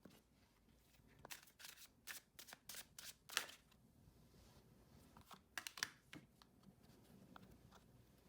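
Tarot cards being shuffled nearby, quiet irregular bursts of riffling and slapping card snaps spread through the clip with soft pauses between, no talking.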